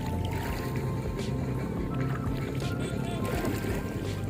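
Kayak moving across a calm, deserted lake at Purbachal on a windless afternoon, with a steady low water wash and soft paddle sloshing throughout, fairly close.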